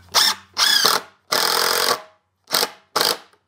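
A power drill drives 2.5 inch construction screws through a 2x4 support rail into the side rail of a wooden bed frame, heard as five short, close whirring bursts separated by brief pauses.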